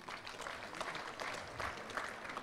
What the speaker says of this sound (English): Can you clap for our academy?